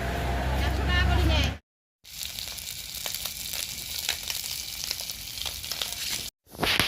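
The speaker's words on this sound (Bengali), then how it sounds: "তো রাত্রে আমি এখানে মাছ ভাজা করে নিচ্ছি" River fish frying in a pan at night, giving a steady, dense sizzle that runs for several seconds with brief breaks, while voices talk in the background.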